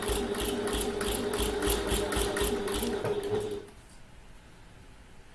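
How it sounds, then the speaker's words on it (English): A sewing machine stitches a handbag in quick, even rhythmic bursts, close and loud for about three and a half seconds before stopping into near silence. "And we're sewing to that second mark."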